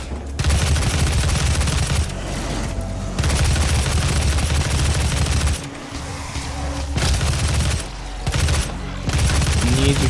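Assault rifle fire in Doom (2016), loud sustained automatic bursts close up, broken by a few short pauses between volleys, with game booms and mechanical clatter mixed in.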